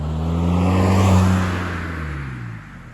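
A VW Polo with a 1.9 TDI diesel engine, fitted with a large ram air filter, pulls hard in fourth gear, a loud, close, rising engine drone that swells and then eases off, with no voices.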